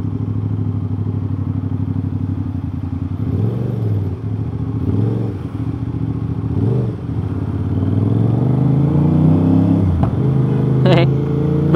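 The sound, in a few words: sport motorcycle engine with aftermarket exhaust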